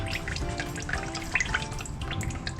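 Water draining and dripping from a Ford 360/390 engine that sat full of water for 30 years, a steady near trickle with scattered brighter drips and splashes running throughout.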